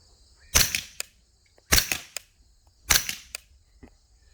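Three sharp gunshots spaced about a second apart from a gun being test fired with copper bullets outdoors, each a loud close crack with a short ringing tail and small clicks between.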